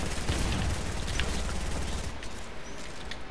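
Dense rapid gunfire in a battle royale video game fight, a loud sustained burst of overlapping shots that tapers off near the end.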